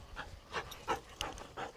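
A hunting retriever pants steadily in a field, a rhythmic series of close, breathy huffs with an occasional faint whimper.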